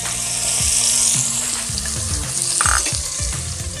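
Curry leaves, garlic, onion and tomato hit hot oil for a tempering, giving a loud, bright, steady sizzle with some clinks and scrapes of a spoon against the pan, no voices.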